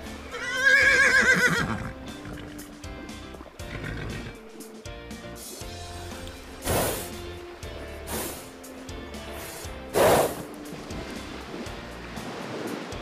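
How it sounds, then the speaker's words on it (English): A horse gives a loud, shrill whinny near the start, alongside ocean waves and wind, with further scattered rushing surf sounds following. "I'm on a horse."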